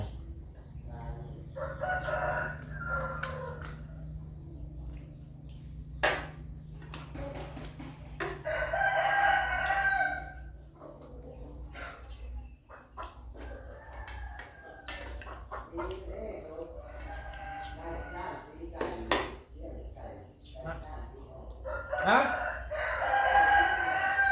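A rooster crows repeatedly among clucking chickens in a yard, the calls spaced out and moderately close over a low background hum, with occasional faint voices.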